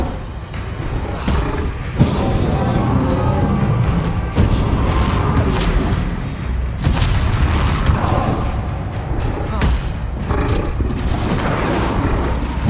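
Incendio fire spells go off in Hogwarts Legacy played in VR, each cast landing as a heavy, booming burst. The loud blasts come in a rapid, overlapping string over a roaring, rumbling background.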